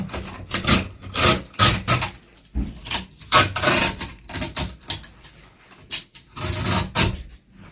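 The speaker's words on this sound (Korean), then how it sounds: "이렇게 먼저 면도 칼로 잘라내고요." A razor blade cuts and scrapes away old rattan from a broken dining chair seat in a quick series of sharp, close rasping strokes with brief pauses between them.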